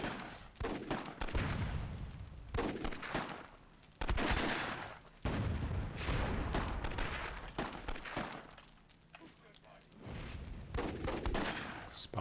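Cannon and gunfire from a WWII-themed Myth II Soulblighter tournament match, with repeated loud bursts and volleys of shots in quick succession, some sharp and close, others rolling together, with no talking.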